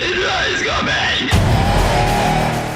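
A boy yells in rage, a strained, wavering shout over about a second, then cut off by a loud, dense roar that fills the rest.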